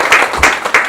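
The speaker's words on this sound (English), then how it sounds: "clap if you travel" Audience at an authors' showcase event clapping in three short bursts, a few people responding together, moderately loud and close.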